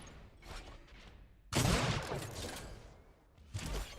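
Unreal Tournament 4 duel match gunfire: a few faint shots, then a loud burst and a rolling blast that fades, and a closing volley of fire near the end.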